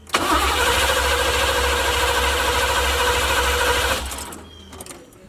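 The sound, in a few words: Chevy box car engine firing up, running rough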